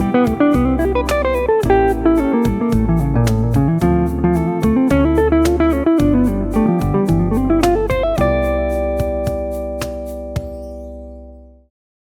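A clean guitar runs through a practice line over D Dorian and G Mixolydian, plucked notes in quick melodic runs with bass notes, close and unaccompanied, ending on a ringing chord that fades out.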